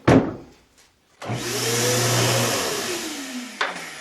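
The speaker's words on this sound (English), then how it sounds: "the screw sticks down a bit too far in the bottom, and I'll have to grind that down" A screw tip on a homemade camera mic mount is ground down with a power tool, a steady motorized whine running for a couple of seconds after a sharp knock, then cutting off with a brief clatter.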